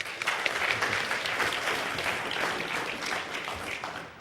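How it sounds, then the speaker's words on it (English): A conference audience at a hacking talk applauds in a dense burst of clapping that swells quickly, holds for a few seconds, then starts to fade. "give him a big round of applause"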